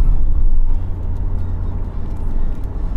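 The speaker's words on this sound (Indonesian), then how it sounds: "Suara gemuruh bannya sangat berasa." Loud, low droning rumble of aggressive mud-terrain tires rolling over a toll road from inside a moving Toyota Rush GR Sport, steady with slight swells.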